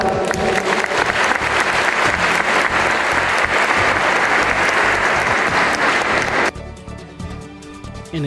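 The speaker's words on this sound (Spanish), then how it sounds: "Brindémosles un fuerte aplauso." An audience at a community celebration for elderly grandparents in San Juan Huactzinco gives loud, dense, sustained applause that cuts down sharply near the end into a thinner patter.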